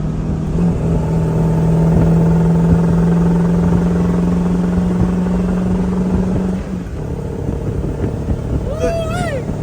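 A 24-year-old manual truck engine drones steadily at close range with a low, constant tone, then dips briefly as a gear change goes through before the hum resumes; a faint whine rises near the end.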